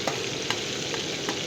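Tomato chutney fries in oil in a village-style kitchen, a steady close hiss of sizzling with a few soft stirring scrapes at regular intervals.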